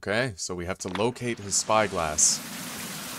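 A person talks over a steady hiss of falling rain, which carries on alone once the voice stops.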